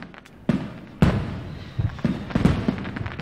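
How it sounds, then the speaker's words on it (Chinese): Signal fireworks burst at night over a military camp, several sharp booms in sequence with crackling tails, loud and near. "等待信号烟花"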